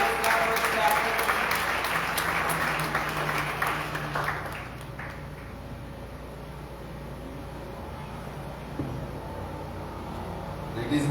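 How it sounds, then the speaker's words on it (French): A church congregation claps during a Sunday worship service, a dense wash of applause loudest at the start and thinning out over several seconds, with voices mixed in. "Pendant la parole, on applaudit cet esprit"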